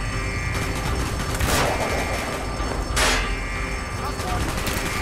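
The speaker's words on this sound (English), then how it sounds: "Gunfire's drawing attention." Gunfire from a Call of Duty Black Ops battle at the Pentagon, rapid bursts of automatic weapons close and loud, with two sharp heavy blasts standing out amid the continuous shooting.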